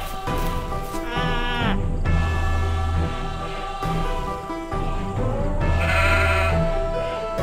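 Sheep in the farming game Dead Acres bleat repeatedly, loud and close, in several drawn-out calls that overlap busy in-game sounds.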